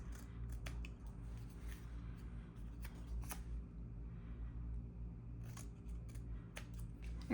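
Scissors trim a paper cutout near small notched wooden handle pieces, giving a few crisp, close snips spaced irregularly over a low steady background hum, with no talking.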